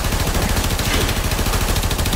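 Dense, continuous rapid gunfire from weapons in the video game Warframe, loud and unbroken, with a fast rattling pulse and no pauses or voices.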